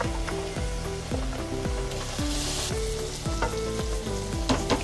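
Vermicelli (seviyan) frying in ghee for sheer khurma, a constant sizzle broken by a regular series of scraping stirs against the pan, close and fairly loud, with no talking.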